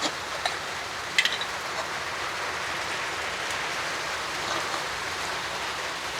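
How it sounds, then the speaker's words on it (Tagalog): Heavy rain pouring down at a small piggery on a mini farm, a steady dense hiss of drops on surfaces that is even and continuous, with a few faint clinks and no talking. "Ang lakas ng ulan."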